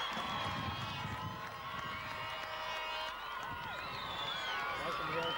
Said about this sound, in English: there's a tremendous crowd out here to welcome the two teams out in the field